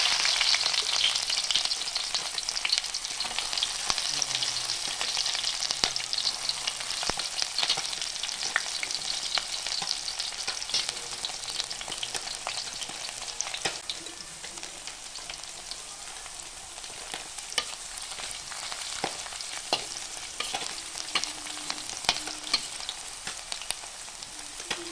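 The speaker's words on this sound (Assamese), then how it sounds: "এতিয়া কেৰাহীত তেল দিয়াৰ পিছত মই ইয়াত তেল গৰম হোৱাৰ পিছত পিঁয়াজ দি দিম।" Onion and garlic fry in hot oil in a wok for a village small-fish curry, giving a dense, continuous close sizzle with occasional stirring scrapes for the whole stretch and no voices.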